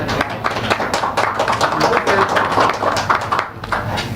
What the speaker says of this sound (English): may I have a loud applause to our sponsor